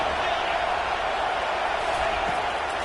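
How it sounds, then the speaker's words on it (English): A stadium crowd roars on third down in the NCAA 25 college football game, a steady, loud wall of cheering and noise with no breaks across the whole stretch. "Decibels rising as the crowd gets behind this defense on third down"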